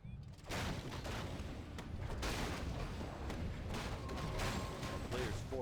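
Battle in Warcraft III, a human side facing a night elf army in a competitive match: dense, continuous clashing and impact noise that starts after half a second and stays loud and steady, with commentary voices over it.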